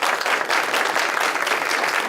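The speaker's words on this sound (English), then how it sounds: "Please give them a round of applause for that." A legislative candidate forum audience applauds the candidates with steady, loud, dense clapping that fills the room throughout.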